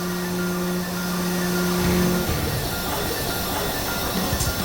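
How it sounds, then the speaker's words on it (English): A RAYS forging press works a forged wheel through its final shape-forging stage in a factory, giving a loud, steady mechanical hum with sustained tonal whine that cuts off midway, leaving rumbling machinery noise. "Next is the third and final stage of shape forging."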